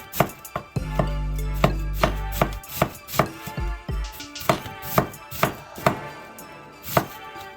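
A knife thinly slicing half a head of green cabbage on a cutting board, a steady run of crisp, close chopping strokes with a brief pause in the middle, no talking.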